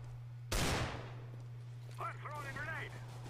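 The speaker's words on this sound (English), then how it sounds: "Shooting in common spots already." Gunfire in Counter-Strike: Global Offensive: one sharp, loud shot rings out and decays, followed by a brief voice.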